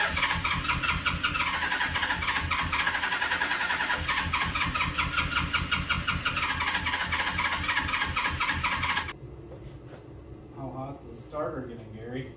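The starter cranks a 1979 Suzuki GS850 motorcycle engine, left sitting for almost 40 years, on a weak battery with the choke closed, giving a loud, close, rhythmic whirring grind for about nine seconds before stopping. Voices talk quietly afterward.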